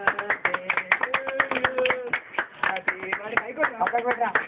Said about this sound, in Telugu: claps guys